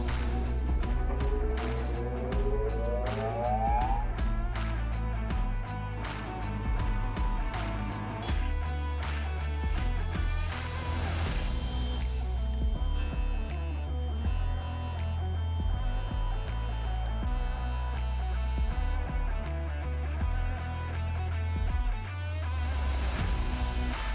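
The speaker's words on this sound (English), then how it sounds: "with the flat face polish on this Lake Superior agate, we have gotten through the 280 grit resin wheel" 8-inch CABKING lapidary machine grinding and polishing a flat face on a Lake Superior agate against a 280 grit resin wheel, a continuous motor hum with intermittent buzzing, hissing contact as the stone is pressed and lifted.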